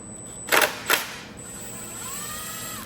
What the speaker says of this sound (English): So I'm gonna grab my either power ratchet or gun.